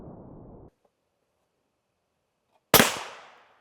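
A single loud, sharp gunshot at a ballistic test of a lightweight Level IV armor plate, with a decaying echo, following a short stretch of noise and then near silence.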